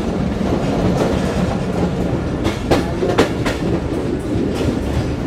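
Banglabandha Express from Rajshahi to Panchagarh rolls along the tracks, heard from inside the coach as a loud, continuous rumble with rhythmic clickety-clack wheel beats and a few sharper rattles.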